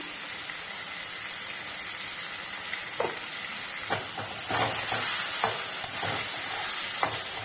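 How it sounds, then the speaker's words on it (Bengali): Chopped onions salted and frying in a pan, giving a constant hissing sizzle that grows slightly louder midway, with scattered soft spatula scrapes and taps in the second half, no speech. "পেঁয়াজগুলো একটু লাল লাল করে ভেজে নেব।"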